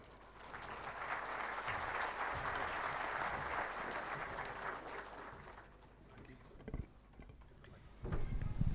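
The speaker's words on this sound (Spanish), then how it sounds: "vamos a recibir con un caluroso aplauso a Alan Power Barrios Rosario" An audience at a law conference in Bolivia applauds to welcome a speaker, a sustained moderately distant clapping that swells then fades out after about five seconds, followed by faint room noise and small knocks.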